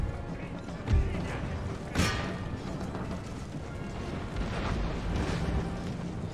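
Cannons boom across a battlefield in the strategy game Empire: Total War, with two heavy blasts followed by a continuous rumbling din of combat.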